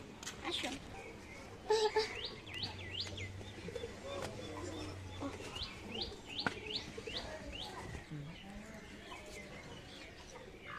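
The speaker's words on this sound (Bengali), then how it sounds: "দেখ মুরগি মাচা ফাচা করতেছে।" Chickens cluck and chirp in a quiet village yard, with scattered short calls and a soft background murmur of people.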